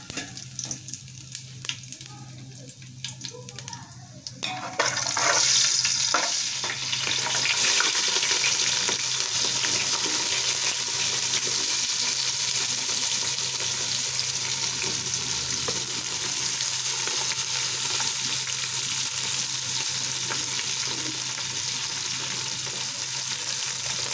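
Cinnamon and fennel frying in hot oil for biryani in a home kitchen, starting with a loud burst of sizzle after a quieter opening, then settling into a steady, bright crackling hiss that lasts throughout, no voices.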